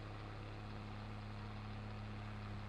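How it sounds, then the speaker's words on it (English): Farming Simulator 22 tractor engine labours under heavy load, a steady low droning hum with a constant tonal rumble, quiet and unbroken throughout. "You can hear the engine's working very hard on this."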